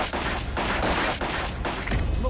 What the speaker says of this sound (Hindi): उसी ट्रक से 2 हमलावर हाथों में ऑटोमेटिक गन लेकर उतरे और मुख्तार पर फायरिंग झोंक दिया।